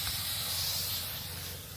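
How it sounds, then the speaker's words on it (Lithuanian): Natural fertilizer mixed with water is sprayed on a pepper farm, a close, steady pressurized hiss that fades slightly at the end. "Purškia natūrales trąšas su vandeniu."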